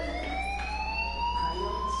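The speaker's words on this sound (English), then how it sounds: "do you hear that fire alarm?" A fire alarm rings in Life is Strange, a steady, shrill electronic tone with a slow rising pitch that holds at moderate level throughout.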